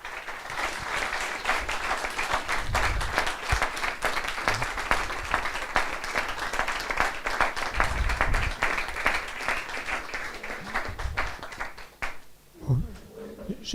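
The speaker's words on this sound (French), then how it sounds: "J'arrête les applaudissements" Sustained applause from a large audience at a PhD thesis defence, dense steady clapping that continues for several seconds before thinning out near the end.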